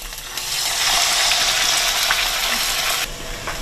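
Milk goes into a hot pan of pan-fried golden tofu, setting off a loud, broad, steady sizzle that swells for about three seconds and then eases.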